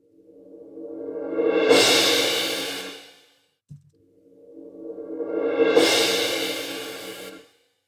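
Two swelling cymbal rolls, each building from soft mallet shimmer to a loud peak and then fading, set in a drum-room reverb, with a brief low knock between them.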